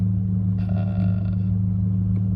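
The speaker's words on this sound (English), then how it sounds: "The induction noise on these engines honestly is just ridiculous." A Mitsubishi Mirage engine fitted with an enclosed pod filter in place of the airbox drones steadily at a low pitch, with a brief rise in intake whoosh partway through, close and fairly loud.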